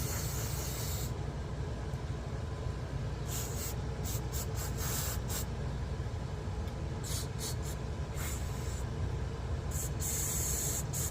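Cleaner sprayed onto an Onan 4000 generator carburetor in repeated short hissing bursts over a steady background hum, close and fairly loud.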